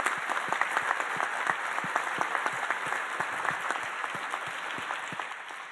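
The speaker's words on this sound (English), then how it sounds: "So let's give them a round of applause." Sustained applause from a conference audience thanking a planning committee, many hands clapping steadily with sharp individual claps standing out near the front, easing slightly toward the end.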